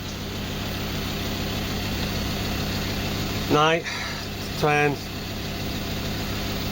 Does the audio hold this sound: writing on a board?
no